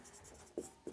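Pen writing on paper while a math problem is worked out, heard as soft scratchy strokes, with two brief firmer taps or strokes standing out near the end. Nobody speaks.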